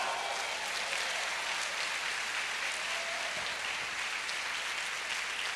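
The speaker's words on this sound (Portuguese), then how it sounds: "Aplauda Jesus!" Church congregation applauding during a Portuguese-language sermon, a steady wash of clapping at moderate distance that holds evenly for several seconds.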